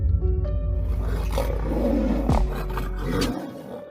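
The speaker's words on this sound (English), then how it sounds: "But we do have a lion versus tiger fight for you." Lion and tiger fighting, with loud, close, overlapping roars and snarls running continuously for several seconds before breaking off abruptly.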